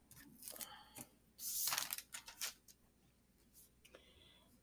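A paper letter cutout is peeled up from a surface, giving quiet crinkly rustles and a brief louder tearing scrape in the middle, close and soft.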